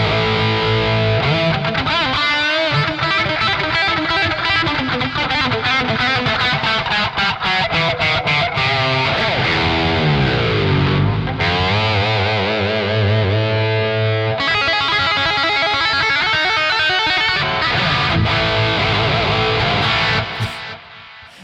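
Electric guitar lead tone through a Marshall amp model with studio delay: continuous distorted playing with sustained bends and fast runs, loud and close, for about twenty seconds before cutting off.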